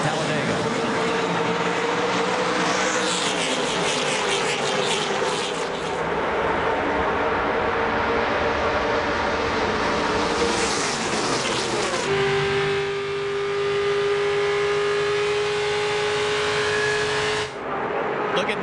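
A pack of NASCAR race cars roars continuously at Talladega as the field accelerates on a restart, loud and dense throughout, with the engine pitch shifting as cars pass. A commentator's voice runs over the noise.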